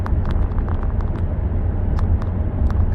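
A 2009 GM 4x4 with a 4L60 transmission shows torque converter shudder: a steady low rumble inside the cab while cruising at about 78 km/h up a light grade and accelerating slightly.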